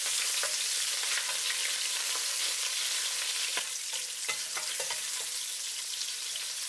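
Shrimp sizzle and crackle in hot oil in a pan over high heat, a bright continuous frying hiss with scattered pops and scraping stirs, close and alone.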